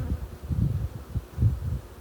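Honey bees buzz low and close around an open hive during heather honey work, the hum swelling and fading in uneven pulses.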